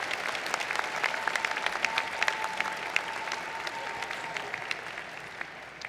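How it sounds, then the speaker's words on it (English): A crowd claps steadily for several seconds at a graduate commencement ceremony, a dense patter of applause in a large room, fading slightly toward the end. "a round of applause for his service"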